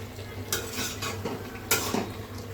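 A utensil stirs Chinese-style vegetables in a pan with a light sizzle underneath, giving two sharper scraping clatters against the cookware amid quieter stirring.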